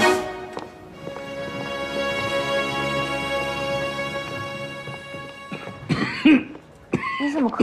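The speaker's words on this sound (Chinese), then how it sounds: "你怎么咳嗽了？ 没事吧？" A man gives a few short coughs near the end of an indoor crime-drama scene, heard over a steady background hum.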